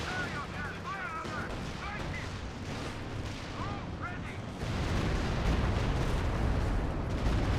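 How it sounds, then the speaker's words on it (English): Artillery shells land in a Company of Heroes 2 battle on the La Gleize map, heavy booming impacts and gunfire rolling together into a loud sustained rumble that grows denser partway through, with a voice talking over it. "Artillery."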